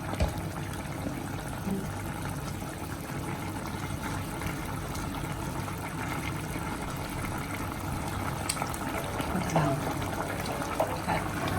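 Vinegar poured into a pan of squid adobo while cooking, a steady liquid fill and sizzle heard close and continuous under a low background hum.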